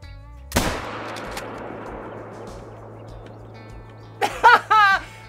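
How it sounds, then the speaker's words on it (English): A single sharp rifle shot fired at a gray fox in the hunting game theHunter: Call of the Wild, a loud crack with a long fading outdoor echo and steady low ambience, followed near the end by a few short spoken words. "Now we're gonna take a shot on this Gray Fox"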